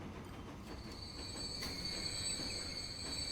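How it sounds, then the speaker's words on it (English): A freight train of 21 cars rolls along a line in the Transport Fever video game. It makes a steady rumbling drone topped by continuous high-pitched wheel squeal, with no talk. "We have one train with 21 cars on the back."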